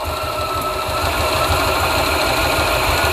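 A gas golf cart engine runs with a steady, rapid low chugging and a mechanical whine. It swells slightly about a second in, then holds close and loud with no voices.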